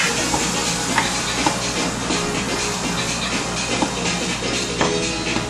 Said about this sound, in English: The onions are starting to fry.